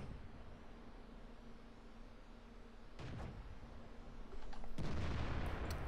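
Tank gun fire in the game World of Tanks, a faint distant-sounding boom around the middle, followed by a louder, sharper blast near the end over a steady low background hum.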